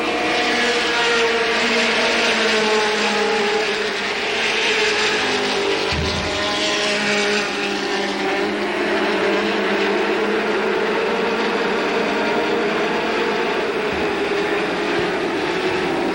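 Stock cars in a 1985 ARTGO heat race roar past on an oval track, a continuous loud engine drone with rising and falling passes and one sharp low thump midway. Sustained throughout, no voices.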